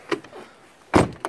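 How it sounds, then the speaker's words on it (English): Power door locks on a 1995 Audi URS6 Avant with a fault: a faint mechanical click, a quiet pause, then a louder clunk of the locks actuating, with a small trailing tick. "Unlock the door"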